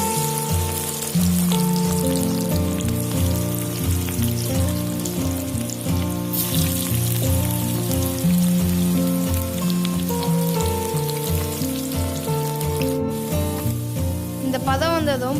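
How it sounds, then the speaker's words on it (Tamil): Boiled elephant foot yam frying in hot groundnut oil, a steady loud sizzle with crackling bubbles running throughout, and faint kitchen clatter near the end. "கடலை எண்ணெய், வேக வச்சிருக்க கிழங்க எண்ணெயில் போட்டு பொரிச்சு எடுத்துக்கலாம்."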